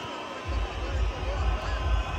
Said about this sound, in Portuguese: E agora o time do Atlético entrando, a torcida vaiando muito